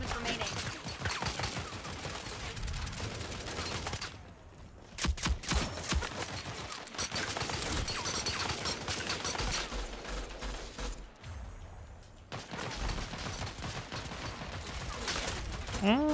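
Gunfire pours in from every side during a Rogue Company round, dense overlapping bursts and rattling automatic fire with brief lulls, loud and close throughout.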